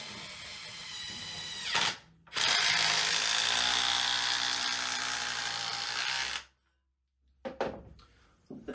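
A Dewalt DCF921 20V Atomic cordless impact wrench, set in mode 2, whirs loudly in a steady burst of about two seconds, then runs again for around four seconds and stops abruptly, followed by faint handling clatter.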